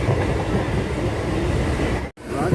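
A Chennai Egmore to Puducherry MEMU train running, steady loud rumble and rattle of wheels on rails heard from inside the coach, with a brief dropout near the end.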